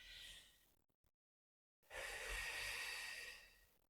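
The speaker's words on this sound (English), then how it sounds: "So we're going to breathe in." A deep, slow breath drawn in and released during a guided relaxation exercise, heard up close as airy rushes, a silent pause, then a longer, fuller inhale.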